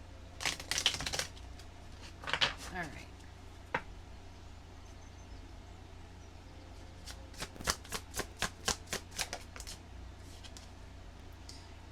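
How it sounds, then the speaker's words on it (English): Tarot cards are shuffled by hand in two short bursts and then a longer rapid riffling run of crisp close-up flutters, with a voice speaking briefly. "Let me do one more shuffle."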